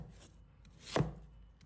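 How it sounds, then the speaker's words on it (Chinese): A knife cuts through a potato on a chopping board, giving one sharp, close thud near the middle of an otherwise quiet moment. "接着，均匀切成厚度约2厘米的小块。"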